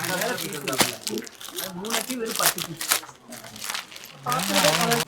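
A saree is unfolded from its packaging with crinkly rustling and crumpling bursts throughout, mixed with someone talking over the handling.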